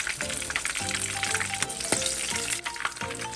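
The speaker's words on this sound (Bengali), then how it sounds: "মাছের মাথাগুলোকে গরম তেলের মধ্যে ছেড়ে দিচ্ছি" Fish heads fry in hot oil with a dense, continuous sizzle and crackle, close and loud throughout, with occasional soft clinks from stirring.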